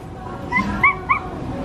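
A voice imitates a dog, giving three short, high yipping barks about a quarter second apart over a steady background hum.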